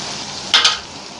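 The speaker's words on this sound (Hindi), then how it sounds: "मसाला हमारा अच्छे से भुन चुका है" Masala with onions frying in a pan for chicken fried rice gives a steady hiss, then a sudden brief double flare of sizzle, as if stirred, that quickly settles back.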